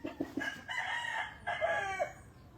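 A rooster crows once nearby, a drawn-out cock-a-doodle-doo preceded by a few short clucks, moderately loud against a quiet background.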